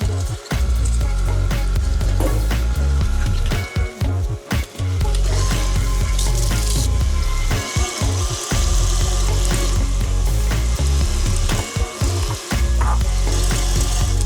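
An electric mixer beats a mixture with sugar for an Earl Grey tea cake batter, a loud continuous mechanical whirr with rattling texture running steadily, briefly dipping a few times as the beaters shift.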